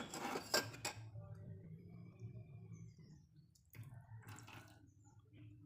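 A copper puja item is dipped into a cleaning liquid, with metallic clinks near the start and again later, and faint sloshing and dripping between them.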